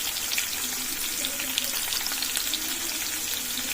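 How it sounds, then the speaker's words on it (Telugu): Onions frying in a pan for a taro and tomato curry, giving a steady, close hiss of sizzling oil throughout, with a faint stirring scrape now and then and no talking. "ఇదిగో ఉల్లిగడ్డలు మగ్గుతున్నాయండి"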